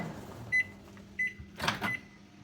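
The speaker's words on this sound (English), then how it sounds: "I might just heat it up in the microwave" A microwave oven reheating rice gives a few short electronic beeps, followed by a soft clunk of the door and some handling noise nearby.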